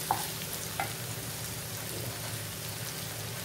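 Drained boiled egg noodles being stirred and tossed in a pan, producing a continuous soft sizzle with a couple of faint scraping clicks near the start.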